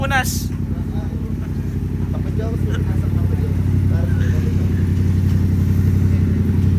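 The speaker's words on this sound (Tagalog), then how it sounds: "Gusto ni Miko yung tambutso." A motorcycle engine idles with a steady low exhaust rumble throughout, loud and close, while people talk and call out over it.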